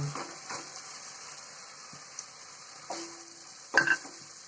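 A soft, steady sizzle of small tangra fish frying in a pan of cooked spice paste, with a few scraping stirs and light clinks of a utensil against metal.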